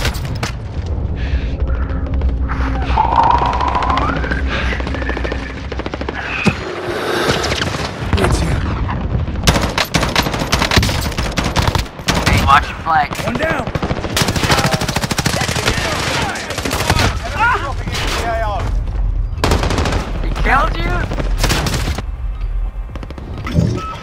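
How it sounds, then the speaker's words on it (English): Near-constant automatic gunfire and booming explosions in a Call of Duty: Modern Warfare match, loud and dense throughout, with a player talking over the chaos. "I'm shooting people in the back."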